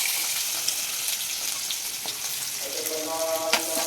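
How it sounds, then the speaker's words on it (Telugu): Onion and green chillies crackle and sizzle in hot oil in a pan, a steady bright hiss with small pops throughout. "ఇప్పుడు ఆనియన్ పచ్చిమిర్చి వేసేసుకోవాలి."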